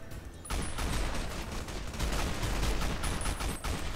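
Gunfire in Fallout: New Vegas fills the clip with a dense, loud barrage of rapid shots, one continuous fusillade with a short dip at the start and a slight pause before the last half-second.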